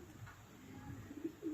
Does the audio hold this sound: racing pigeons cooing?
yes